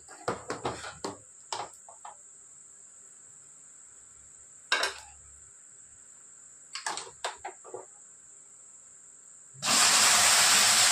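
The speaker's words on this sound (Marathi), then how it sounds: "आता आपण त्यात टाकणार आहोत दूध." Milk hits a hot pan of roasted dry fruits, a sudden loud rushing sizzle that swells near the end after a quiet stretch of a few scattered clinks and soft taps.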